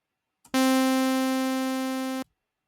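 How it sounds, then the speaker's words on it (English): A saw wave from the Sylenth1 synthesizer plug-in plays as a single sustained, buzzy, harsh tone, starting abruptly, holding for under two seconds at steady loudness and cutting off cleanly, alone in silence. "a saw wave, for example, is pretty harsh and sounds like this"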